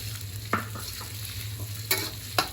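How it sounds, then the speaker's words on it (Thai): Garlic fries in hot oil with a soft, steady sizzle, broken by a few sharp scrapes of stirring, close and unaccompanied by talk. "เจียวกระเทียมเปลี่ยนจากสีขาวเป็นสีเหลืองๆนะเจ้ะ"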